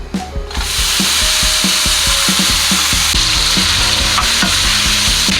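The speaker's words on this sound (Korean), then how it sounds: "자, 우삼겹 넣어주세요." Thin-sliced beef brisket hitting a preheated pan over medium heat bursts into a loud, steady sizzle, with rhythmic knocks of stirring beneath it, close up and no talking.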